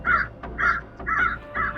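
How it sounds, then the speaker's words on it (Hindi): Crows caw loudly and repeatedly in a horror-story animation, four harsh calls in a steady rhythm, close and alone with no talk. "तभी पेड़ों पर से बहुत सारे कौवा आसमान में निकलकर मंडराने लगती है।"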